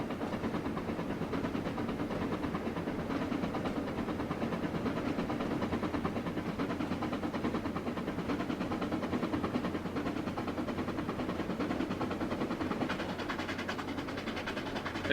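A small steam locomotive runs steadily in a video game, a continuous dense rumble with chuffing and rail clatter at an even, moderate level throughout.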